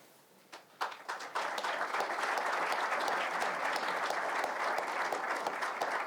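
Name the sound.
applause at press conference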